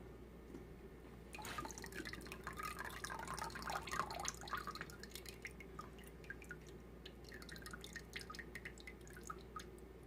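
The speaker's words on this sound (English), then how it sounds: "So I'm going to drain it into this bowl." Water and grease from cooked ground beef drain into a bowl, giving a soft irregular patter of drips and trickling that stays quiet and close for several seconds.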